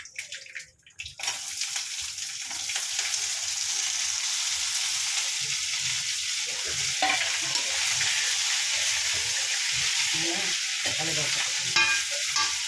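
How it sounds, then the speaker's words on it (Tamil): Tamarind-style curry with tomato bubbling and sizzling in a pan, a steady close frying hiss with soft stirring scrapes, continuous throughout after a brief quieter start; a voice speaks briefly near the beginning. "நல்லா குழம்பு கொதிச்சு வருது"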